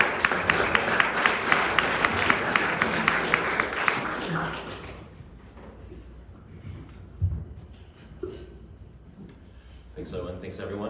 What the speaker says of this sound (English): welcome Doug with a warm applause here.